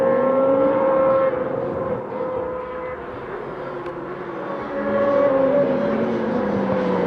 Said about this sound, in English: there's basically 3 packs of motorcycles that are going to be fighting out there.